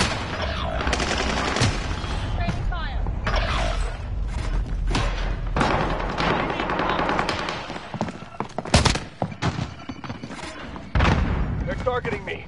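Rapid gunfire from a PS4 shooter game, dense bursts of shots and thuds running almost continuously and loud, with a brief lull near the middle before heavy firing resumes; game voice callouts sound over the shooting.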